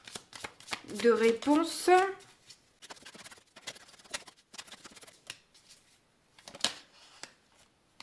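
Tarot cards shuffled and drawn by hand: a run of quick, close riffling and flicking snaps, interrupted near the start by someone speaking, then scattered softer card slides and taps.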